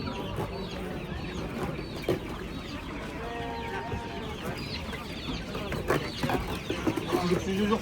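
Chickens and roosters cluck and call at a busy poultry market, a lively cluster of fowl noises under ongoing crowd chatter and bargaining voices.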